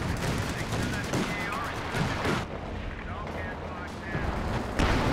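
Artillery barrage in a 4v4 Company of Heroes battle on Hill 400, with continuous heavy shell blasts and rattling gunfire packed densely together. The bombardment stays loud and close throughout, and a player talks over it.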